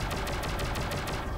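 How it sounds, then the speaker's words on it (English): Boats exploding in the PS1 game Shockwave Assault, rapid repeated burst-like blasts in a fast rhythmic volley over dense low rumble, loud and continuous. "Don't ask me why they explode, they just do."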